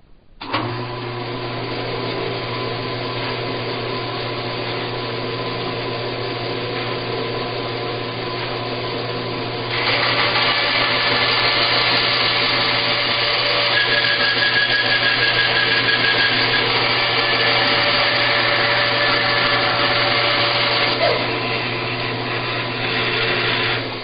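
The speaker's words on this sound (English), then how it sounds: "I'm just going to run them through the bandsaw" A bandsaw with a coarse blade cuts a chamfer on a PC liquid-cooling reservoir part, a loud, continuous motor hum that grows harsher and busier around the midpoint as the blade bites into the piece.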